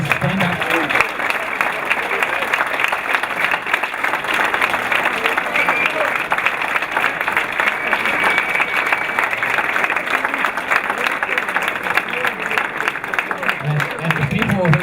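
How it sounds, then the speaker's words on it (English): Sustained applause from a seated audience honoring race volunteers and workers at an adventure racing event, steady and dense throughout with faint cheering mixed in. "everyone give them a round of applause"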